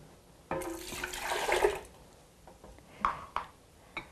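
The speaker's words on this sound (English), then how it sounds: "We'll add the cup of water." A cup of water poured into a blender jar while making a vegan walnut and garlic sauce, a short gurgling splash lasting over a second, followed by a few faint drips and light knocks.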